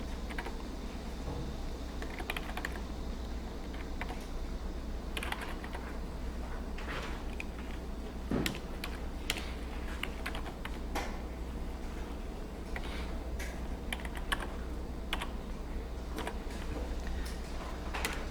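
Someone types a command on a computer keyboard, with soft irregular key clicks and occasional bursts over a steady low room hum, no talk.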